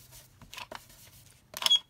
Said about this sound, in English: sorry about that horrible noise with my ink pad.